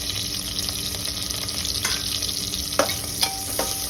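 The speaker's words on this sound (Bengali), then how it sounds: "পেঁয়াজটা একটু লাল করে ভেজে নিই।" Sliced onion fries in oil with whole cumin, bay leaf, dried chilli, cardamom, cinnamon and cloves for khichuri, giving a steady close sizzle with a few spoon scrapes near the end.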